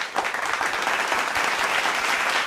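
A folk culture show audience claps loudly and steadily, a dense burst of applause that holds throughout without a break.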